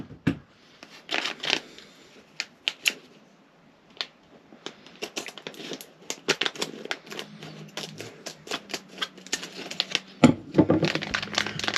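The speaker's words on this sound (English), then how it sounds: "Let's get my scissors." Scissors cutting and snipping open the packaging of a camera chin mount, a run of sharp irregular clicks, snips and plastic crinkles, close and loud, with no talk.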